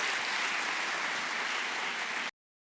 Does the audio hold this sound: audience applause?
yes